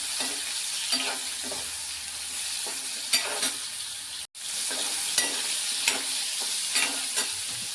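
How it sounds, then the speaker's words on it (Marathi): Ridge gourd sautéing in oil in a pan for a Marathi masala curry, a continuous soft sizzle broken by repeated scraping stirs at a steady rhythm, with a brief dropout midway. "हा दोडका आहे ना आपल्याला तेलामध्ये छान परतून घ्यायचा"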